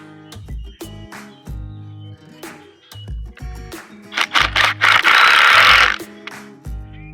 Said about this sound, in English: Now that we have those drilled, we're ready to screw it on.